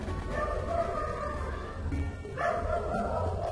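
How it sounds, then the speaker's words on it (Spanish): Dogs bark and yip in the background of a room, several short barks coming and going over a low steady hum, fairly faint and not very close. "el mal momento para que los perros estén fastidiando"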